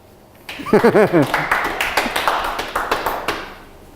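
An audience at a local history lecture in Goesan, Korea, breaks into scattered clapping after a brief voice, the claps carrying on for a couple of seconds before fading.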